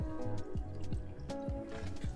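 Sparkling water is poured into a home aquarium with a steady liquid splash, and a series of repeated drips and bubbly plops stands out close and clear over the pour.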